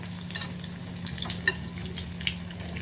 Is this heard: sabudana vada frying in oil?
yes